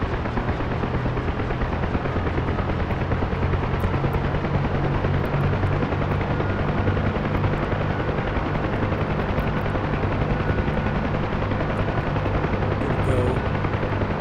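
A helicopter engine is throttled up to maximum, giving a loud, steady rotor and turbine roar with a constant low drone that holds for the whole stretch without a break.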